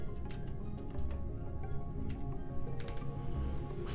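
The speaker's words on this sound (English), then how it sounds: "Fucking keyboard." Rapid clicking of keys on a Razer BlackWidow Chroma mechanical computer keyboard, sounding as steady close typing over a low background hum.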